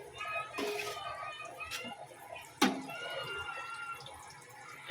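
Water pours and splashes into a pot of cooked curly spaghetti being rinsed, with a few sharp clanks of metal cookware, close and moderately loud.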